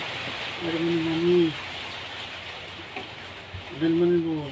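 Heavy typhoon rain pours down in a steady, broad hiss that fills the background throughout. A voice speaks briefly twice over the downpour.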